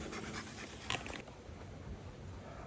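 A puppy named Storm pants quickly and steadily on a boat ride, a soft, close, rhythmic breathing heard faintly over steady wind and water noise.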